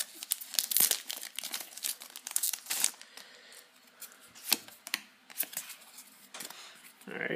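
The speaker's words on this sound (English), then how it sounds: "It's kind of hard to open these packs." The foil wrapper of a Japanese Pokémon XY Wild Blaze booster pack crinkles and tears as it is pulled open, in close, repeated bursts of crackling rustle with pauses between them.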